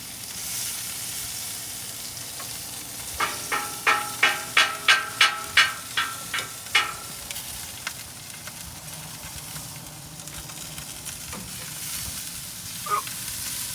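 A steak sizzles steadily in a hot pan, with a run of about ten sharp, rhythmic taps or presses in the middle and a brief click near the end, fairly quiet and with no talking.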